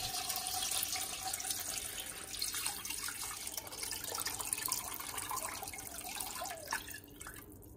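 Water runs and splashes into a pot holding rinsed neck bones and cubed brisket for Lao pho broth, a steady close pour with dripping near the end.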